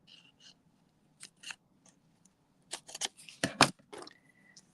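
Scissors make a series of crisp snips through cardstock while crafting a gift card holder card. The cuts come in short, irregular bursts, close and fairly clear over a quiet background.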